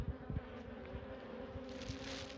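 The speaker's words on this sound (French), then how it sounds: "Les abeilles qui sont dessus, on les secoue." Dense, steady buzzing of many bees swarming close around a small beehive, a continuous insect drone with a few brief louder knocks near the start.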